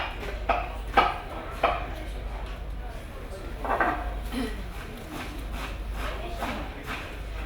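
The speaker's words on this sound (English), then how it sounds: "I'm just going to chop an onion up very quickly." An onion is chopped quickly with a knife on a board in a boat's galley, giving a handful of sharp, close taps in an irregular rhythm that thin out after the first few seconds over faint background noise.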